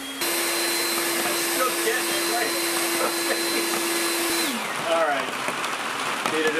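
Leaf blower forcing air through a 3D-printed bell-shaped air umbrella slot, a loud steady roaring whoosh with a constant whine that drops in pitch as it winds down near the end.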